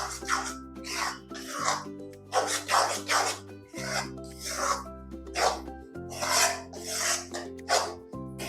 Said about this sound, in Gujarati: અને આ રીતે હલાવી લેવાનું બધું સરખી રીતે